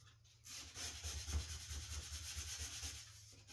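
A cabinet door is sanded by hand with sandpaper wrapped around a small stick, giving a quiet, continuous scratchy rubbing with gentle back-and-forth strokes.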